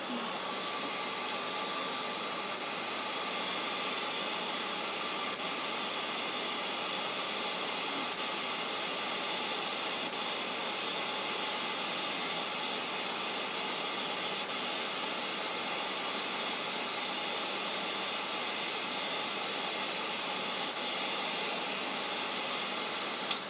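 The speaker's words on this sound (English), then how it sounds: "I guess I'm going to have to use that for a moment" A steady, loud broadband blowing roar like a hair dryer runs continuously throughout, with no pauses or talk.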